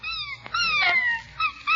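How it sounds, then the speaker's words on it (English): A puppy whimpers and yips in high, thin whines, several short cries near a fireplace in an old-time radio comedy, with soft room noise underneath. "Leroy plays happily by the fire with his Christmas puppy"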